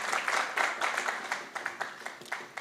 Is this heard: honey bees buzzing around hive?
no